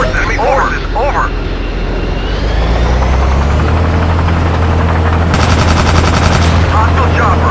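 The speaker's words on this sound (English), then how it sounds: "Hostile chopper, over." In Battlefield 2, a helicopter rumbles overhead while rapid machine-gun bursts rattle close by, the rotor drone steady and loud beneath the gunfire, with radio-style voice callouts over the top.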